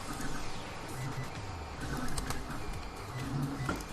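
A 3D printer runs nearby, giving a steady whirring, buzzing hum with shifting motor tones and faint clicks, continuous and moderately quiet over a low room background.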